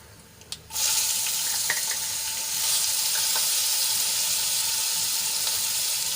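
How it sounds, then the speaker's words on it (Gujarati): Chili-garlic paste hits hot oil with cumin and curry leaves: a sudden loud burst of sizzling after a quiet start, then a sustained, close, crackling fry with a few small pops and no talk. "મરચાં અને લસણની પેસ્ટને આપણે થોડીક સાંતળી લઈશું"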